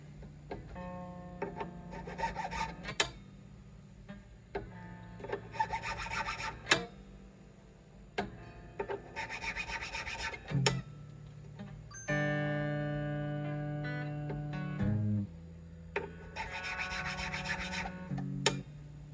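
Fret ends on a Gretsch Streamliner guitar are worked with a file in repeated rasping bursts, each a few strokes long with short pauses between, close up and moderately loud, with no voices.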